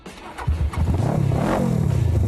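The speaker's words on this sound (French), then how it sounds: "J'aimerais ça t'entendre virer ça, moi, ce petit moteur-là" A 450 cc motorcycle engine idles, then revs up in a steady rising drone with a pulsing low rumble, close and loud throughout.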